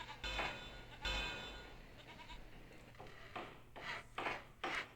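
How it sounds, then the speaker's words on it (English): Sheep bleating in the farm scenery of the train-building game Railroad Tycoon II, several short nasal bleats sounding in bursts over a low steady hum, with the loudest calls near the start and a cluster toward the end. "the sheep are even taunting me for crying out loud"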